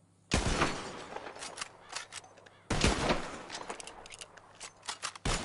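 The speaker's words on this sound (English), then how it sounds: "Who can shoot the most bottles? Just draw your gun and aim when you're ready" Gunshots in Red Dead Redemption II, fired at bottles in a shooting contest: sharp, loud cracks at about 0.3 and 2.7 seconds, each followed by scattered clatter and smaller pops, with a third shot right at the end.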